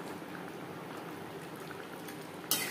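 Pangas fish curry gravy boils steadily in a pan with a soft, continuous bubbling simmer and no voices, ending in a sharper burst of noise.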